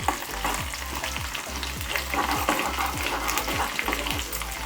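Dried red chillies sizzle and crackle as they fry in a pan for chutney, with steady loud frying noise and repeated scraping stirs of a spoon against the pan.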